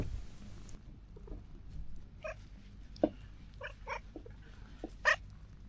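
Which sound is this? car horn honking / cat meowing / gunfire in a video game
cat meowing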